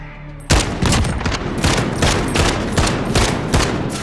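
Gunfire in the video game Call of Duty: Modern Warfare, loud and close, with rapid bursts of automatic fire that repeat in pulses and continue without pause after an abrupt start, with no voices over it.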